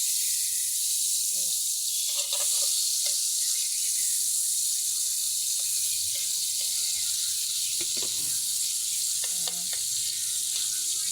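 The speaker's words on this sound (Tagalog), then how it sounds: "Ayan, tunawin muna natin yung butter." Butter, or margarine, melts in a pan with a steady, close sizzling hiss that runs throughout, while a person talks intermittently over it.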